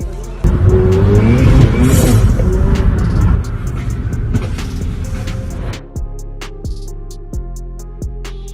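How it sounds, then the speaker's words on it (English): A Huracan supercar accelerating hard through a corner: a loud, close engine roar under shrill tyre squeal, then the engine note drops away into sharp, rhythmic knocks. "Accelerating hard in the middle of a corner was a very bad idea."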